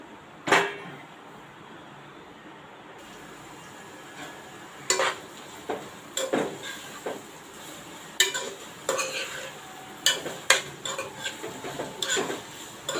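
Finely chopped onions fry in a pan, a soft low sizzle under repeated sharp clinks and scrapes of a spoon stirring against the metal, with brief faint voice sounds.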